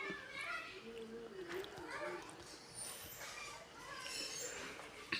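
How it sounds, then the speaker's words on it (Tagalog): Children's voices chatter and call out while they play outdoors, a lively, steady mix of kid speech with some voices farther off. "Yung mga bata na sa labas naglalaro"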